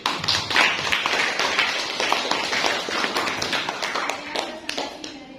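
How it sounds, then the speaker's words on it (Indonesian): Small group of students clapping together in a classroom after a group presentation, a steady dense patter of hand claps lasting several seconds at moderate loudness with no talk over it. "kasih tepuk tangan dulu"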